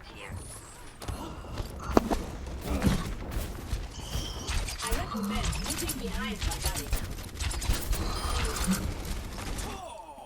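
Rapid gunfire from an enemy turret in the video game Overwatch, crackling in a dense, continuous stream of shots and mechanical clatter, with someone talking over it.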